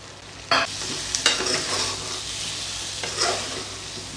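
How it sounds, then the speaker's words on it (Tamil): Tomato and curry masala sautéing in oil for a mutton dalcha, a close, steady sizzle with a few sharper bursts as the pan is stirred. "இதை எல்லாத்தையும் எண்ணெயில் வந்து வதக்கிடலாம் இப்போ கட் பண்ணி வச்சுருந்து தக்காளி சேர்த்துக்கிறேன்"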